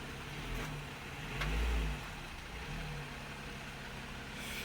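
A car backs slowly into a parking space, its engine idling low and steady with one brief swell of throttle, heard nearby with no talking.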